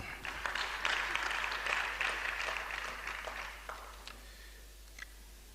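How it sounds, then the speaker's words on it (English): A lecture-hall audience at a School of Postgraduate Studies annual lecture claps for past deans, a full burst of applause that gradually thins and fades to a few scattered claps. "Please, round of applause for them."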